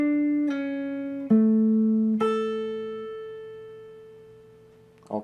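A clean electric guitar plays a few sustained single notes from a guitar solo, four plucks spaced about a second apart, each ringing and slowly decaying, followed by a brief voice at the end.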